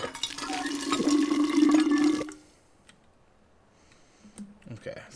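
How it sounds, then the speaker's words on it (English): Water pours steadily into a canteen in We Happy Few, a loud liquid rush lasting about two seconds before cutting off, followed by quieter faint clinks and movement. "Alright, so I'm going to fill up my canteen here."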